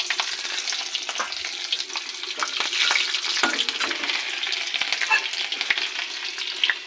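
Slit green chillies and nigella seeds fry in hot oil in a wok, giving a continuous close sizzle and crackle with small pops and occasional stirring scrapes, with no voices.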